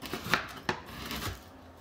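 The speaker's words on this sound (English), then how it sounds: "Just pulled some green chilies out of the freezer to kind of gonna get those kind of minced up a little bit here." Knife mincing frozen green chilies on a cutting board: three or four sharp, close chops spaced irregularly over a faint background hiss, no talking.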